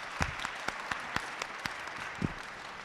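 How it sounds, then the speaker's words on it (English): Conference audience applauding the speakers at a panel on communication in Ukraine, a short, modest patter of clapping with a few louder, distinct claps standing out. "please a round of applause to them"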